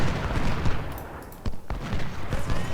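Civil War musket volleys and cannon fire from the Ultimate General battle game, a dense continuous fusillade of crackling shots with a few sharper louder reports standing out, steady and fairly near.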